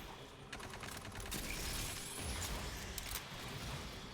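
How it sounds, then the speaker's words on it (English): SMG bursts in Aliens: Fireteam Elite, rapid crackling automatic fire with mechanical clatter, loud and continuous for several seconds with no talking. "Oh yeah, and this SMG just kicks ass."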